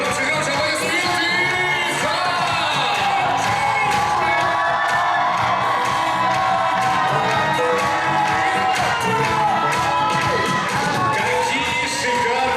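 A large crowd at a Miss and Mister university pageant cheers, whoops and shouts continuously and loudly, a dense wall of voices with scattered high yells and clapping mixed in, no single voice standing out.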